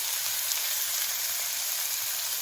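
Finely chopped tomatoes sauté in a pan for Kolhapuri misal, giving a soft, continuous sizzling hiss with faint low bubbling underneath, steady and fairly quiet throughout.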